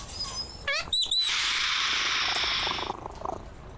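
A cat in the Sherlock Holmes Vs Jack The Ripper video game gives a steady, close purr lasting a few seconds, with short chirping sounds just before it.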